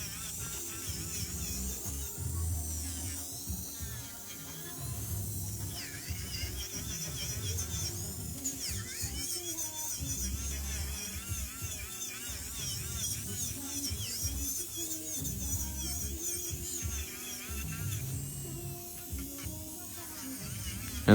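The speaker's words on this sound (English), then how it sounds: "always keep the drill moving in one direction" Electric nail drill filing a gel nail during a hard gel top coat manicure, a steady close high-pitched whine that wavers slightly in pitch as the bit moves, continuous for the full duration with no talk.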